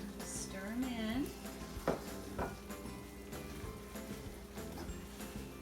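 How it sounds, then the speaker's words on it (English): Split almonds being stirred into a cooking toffee mixture for almond roca, a steady scraping and soft bubbling sizzle close by throughout, with faint background sounds. "now we just keep stirring until it turns to a nice golden brown color"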